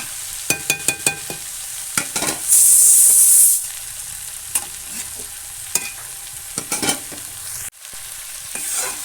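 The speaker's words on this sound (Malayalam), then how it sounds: "ഇതെല്ലാം ഒന്ന് ഇളക്കി കൊടുക്കണം നല്ലതുപോലെ ഇളക്കി കൊടുക്കണം" Egg roast with onions is stirred in a pan, giving scraping spoon knocks and an ongoing sizzle, with a loud burst of hissing steam partway through; no one speaks.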